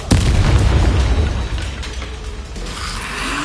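Confringo blasting curse in a wizard video game, a loud sudden boom at the start followed by a rumbling, crackling decay with faint mechanical rattling.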